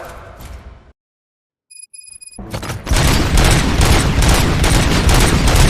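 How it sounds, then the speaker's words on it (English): Gunfire erupts in a RoboCop action scene: after a moment of near silence and brief metallic pings, a loud sustained barrage of shots and blasts roars on continuously. "Gunshots? What's going on?"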